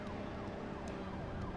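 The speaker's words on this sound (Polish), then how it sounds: "Do mnie te syreny są włączone, czy o co chodzi?" Police car sirens in the video game BeamNG.drive, a wailing, sweeping siren tone rising and falling continuously over steady engine noise, moderately loud and uninterrupted.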